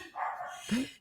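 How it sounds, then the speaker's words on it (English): A small sausage dog barks nearby in a house, a short pair of yappy barks heard in the background with no talking over it. "it starts barking. And it sounds really loud."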